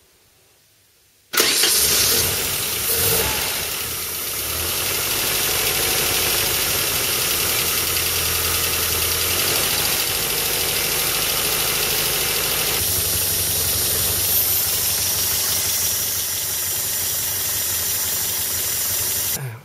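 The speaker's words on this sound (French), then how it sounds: "J'ai redémarré le moteur" A car engine cranks and catches abruptly after near silence, then settles into a steady, loud idle with a slight knocking undertone, running throughout a coolant system flush.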